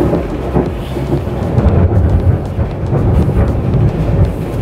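Deep rumbling thunder rolls continuously, loud and close, with rain hissing underneath and no voices.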